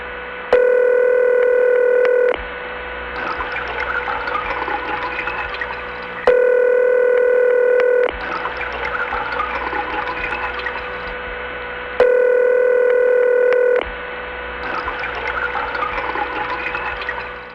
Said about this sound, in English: High tone on ring is actually just a power supply signature that some offices have.